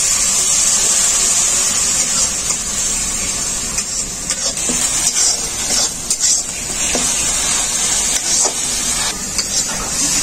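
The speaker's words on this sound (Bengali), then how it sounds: "মশলাটাকে খুব ভালো করে কষানোর জন্য অল্প একটু জল দিয়ে দেবো।" Spice masala of cumin, coriander and black pepper powder with a little water sautéing in a pan, a continuous loud hissing sizzle with occasional scraping stirs, close and steady with no talking.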